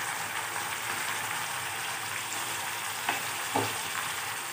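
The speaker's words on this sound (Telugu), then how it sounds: "ఉల్లిపాయ ముక్కలు బ్రౌన్ కలర్లో ఫ్రై అయ్యి మటన్ వేసుకోవాలి" Mutton sizzles in a pan with browned onions and masala paste, a steady close crackling fry with a couple of soft knocks from stirring, no voices.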